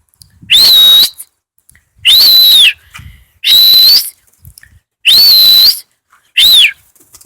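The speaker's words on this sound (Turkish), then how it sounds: "Ben ıslık çalıyorum biraz." A person whistles five loud, sustained notes to call pigeons, short gaps between them, each rising then falling slightly, with faint background noise in the pauses.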